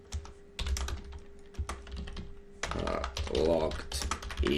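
Someone types on a computer keyboard while coding session-based authentication, entering a username; sharp key clicks come in irregular bursts, close and clear, with a short pause between runs of keystrokes.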